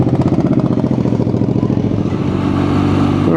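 A BMW R nineT Scrambler motorcycle pulling away, its engine throbbing in a steady pulsing rhythm that rises into a smoother drone as it gathers speed, loud and close.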